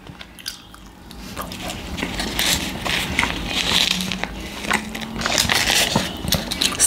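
Crunchy bites and chewing of a baked Betty Crocker blueberry muffin top, close to the mic, with irregular crackling crunches growing denser toward the end.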